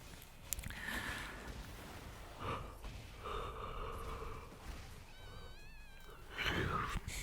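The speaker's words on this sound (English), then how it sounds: "I'm yawning so much." Soft, drawn-out yawning breaths with gasping inhales and a few sighs, close and intimate over faint background noise, in a quiet indoor gaming setting.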